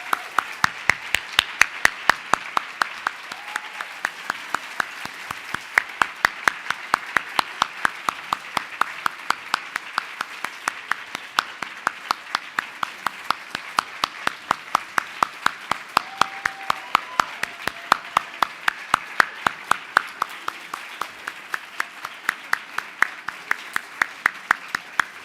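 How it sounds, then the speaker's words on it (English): An awards-ceremony audience applauds the writers, a long, even round of clapping from a large crowd that holds steady at moderate loudness for the whole stretch. "Can we first just give one last round of applause to all the writers who joined us here tonight?"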